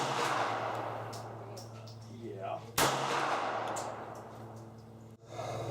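A short-barreled P-64 pistol firing at 30 feet at a range, with one sharp, loud report cutting through steady outdoor background noise and a fainter, muffled thud near the end.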